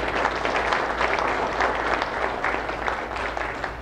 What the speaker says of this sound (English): So I'd like to give a round of applause to Mayor Ortiz.